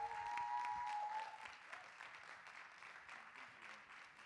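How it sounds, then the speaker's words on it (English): An audience at a sports and entertainment entrepreneurship summit claps steadily. The applause is loudest at the start and then eases to a softer patter, and a brief tone sounds early on. "So let's give a round of applause to our scholar, Dr. Tommy Jackson."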